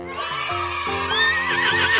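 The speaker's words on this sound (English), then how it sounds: "H for horse." A horse neighs in a loud, close whinny with a rising, wavering call lasting about two seconds, heard alone.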